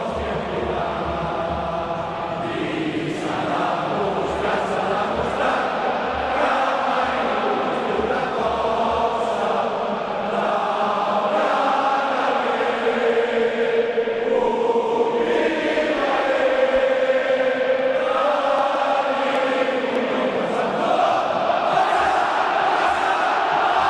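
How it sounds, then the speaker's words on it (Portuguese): A large crowd of Barcelona supporters sings their club anthem a cappella inside a packed football stadium during a match against Real Madrid, a sustained, swelling chorus of thousands of voices that fills the space without a break. "A capela cantando o hino."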